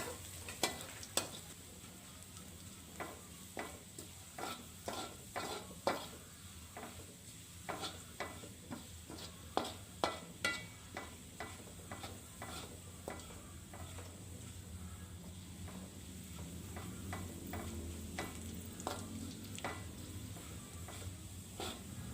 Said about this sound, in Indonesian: Masukkan bawang putih untuk taburannya. Kemudian aduk-aduk hingga bawang putihnya ini matang dan berwarna kecoklatan